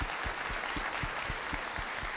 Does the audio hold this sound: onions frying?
no